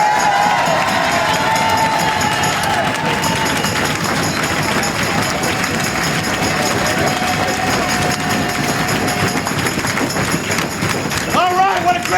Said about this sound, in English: what a great crowd!